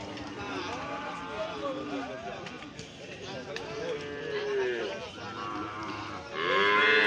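Cattle at a crowded cattle market moo repeatedly in long, drawn-out calls amid constant crowd noise and nearby talk, with a louder, closer call near the end.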